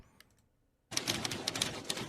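Many typewriters clatter at once in a Simpsons scene, a dense, continuous rush of rapid key strikes that starts abruptly after a brief quiet moment.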